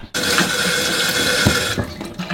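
Tap water runs steadily into a sink while dishes are washed inside a van, a loud, continuous close-up splashing stream with a few brief clinks partway through.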